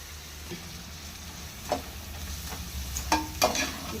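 Vegetables for street-style noodles frying in a pan at home, with steady sizzle and scattered scraping spatula strokes, a few sharper clatters near the end, no voices.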